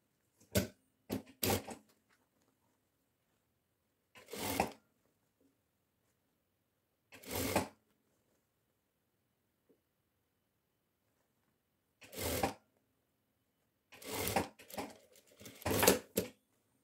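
A sewing machine sews a sleeve cuff in brief separate bursts with long silent gaps between them, close and moderately quiet, the runs growing busier toward the end.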